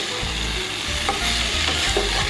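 Eggs frying and being stirred with spice masala in a pan for an egg and potato curry, giving a steady close sizzle with spoon scrapes and stirring knocks, no voices.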